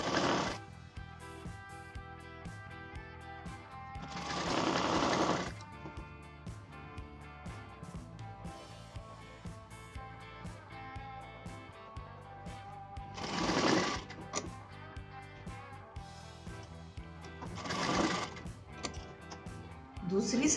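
Sewing machine stitching along a folded skirt belt, a quiet steady mechanical whir with ticking needle rhythm, broken by three short louder bursts of handling or fabric noise.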